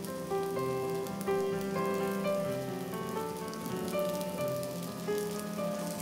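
Potato rolls cooking in oil on a hot tawa give off a soft, steady sizzle and crackle beneath a continuous layer of tonal music.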